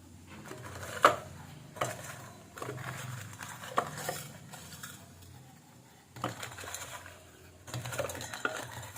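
Pointed gourds being mixed by hand with salt and turmeric in a bowl: soft squelching handling with intermittent clinks and knocks against the bowl, close and fairly quiet.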